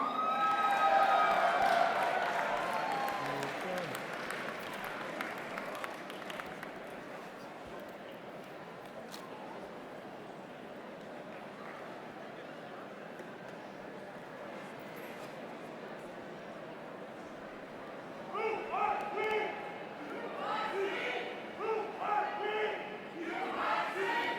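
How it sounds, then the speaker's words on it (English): Distant crowd at a university English department winter commencement ceremony, cheering and clapping for new graduates, a broad steady wash of noise with a brief louder swell near the end. "Let us now give the new graduates a big round of applause"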